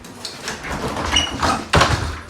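Door being fitted back onto its hinge pins, a few close knocks and scrapes of wood and metal ending in a sharp thud as it seats.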